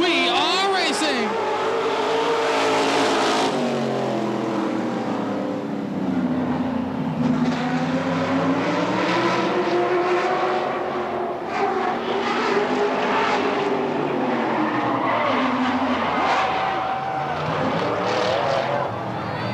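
Stock race cars roar around the oval at Tri City Motor Speedway, engines rising and falling continuously and loud throughout, with a race announcer talking over the pack.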